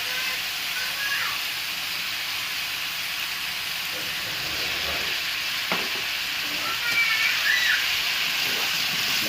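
Braised pineapple chicken fries in a pan, giving a continuous soft sizzle and hiss while being stirred, with faint scraping touches and a quiet voice in the background.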